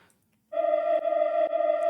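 A swelling reversed reverb pad sampled from an a cappella vocal, entering abruptly after half a second of near-silence and holding a steady, tonal, ghostly drone with two brief dips, loud and alone.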